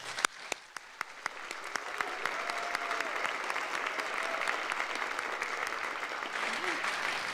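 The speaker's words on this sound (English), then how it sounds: "One more round of applause, please." Audience applause at a high school awards ceremony for scholarship recipients and mentors, a steady wash of many hands clapping that builds after a few sharp early claps and holds for several seconds.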